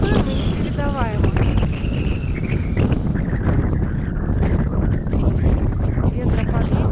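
Strong wind blows across a microphone at a high viewpoint overlooking a small coastal town. It is a loud, constant buffeting roar for the whole stretch, with a person talking over it.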